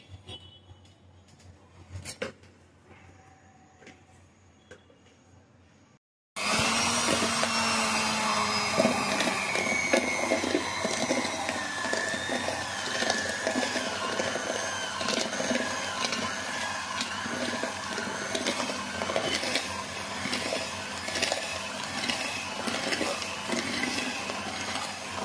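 A hand mixer beats condensed milk, brown sugar and sugar, switching on abruptly after a quiet stretch with light clinks, then a steady loud whirring drone that continues with small shifts in pitch.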